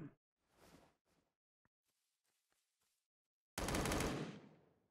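A short loud burst of rapid gunfire near the end, after several faint scattered clicks and shots, like automatic fire in a Battlegrounds-style survival shooter game.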